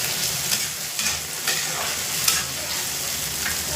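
Chopped tomatoes frying with onions for Indian egg bhurji, a loud continuous close sizzle with repeated spatula scrapes and stirring throughout.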